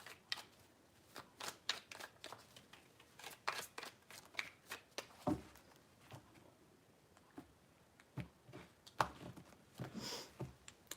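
Tarot cards are shuffled by hand in soft, irregular riffles and slaps, quiet and close, with brief pauses between bursts.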